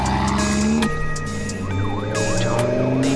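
An add-on siren fitted on a Lamborghini wails loudly and continuously, sweeping up and down in a steady warbling pattern close by, with no talking.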